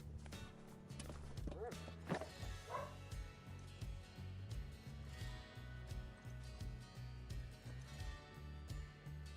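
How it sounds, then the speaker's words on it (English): A female puppy, left ignored, barks and yips in short bursts with whimpering between, fairly close, over a low steady background hum. "the puppy is not happy that we're not paying attention to her"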